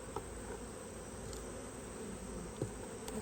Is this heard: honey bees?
yes